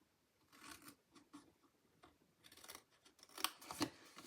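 Scissors snip through a paper treat box in a quiet room, a run of short close crisp cuts with louder sharp snips near the end.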